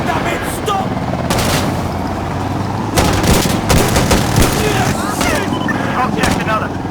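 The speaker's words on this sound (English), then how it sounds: "Opening fire." Rapid rifle fire and bursts crackle through a World War II themed match of Insurgency Sandstorm, with dense repeated shots, some louder close volleys and a busy battle backdrop.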